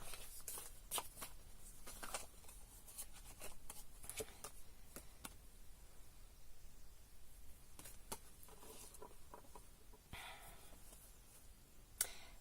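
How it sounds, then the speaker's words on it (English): An Osho Tarot card deck being shuffled close by, with quiet riffling and repeated sharp card flicks and taps in a soft, irregular rhythm. "I'd like to actually just switch to my Osho Tarot deck now and take a couple of cards"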